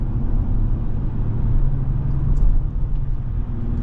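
Interior cabin noise from a 2024 Acura MDX A-Spec SUV on the move, a steady low road-and-engine rumble that swells slightly mid-drive, with no one talking.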